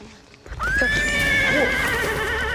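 A horse in a TV drama gives a loud, close whinny that rises and wavers for about two seconds after a brief quiet lead-in, with low rumbling underneath.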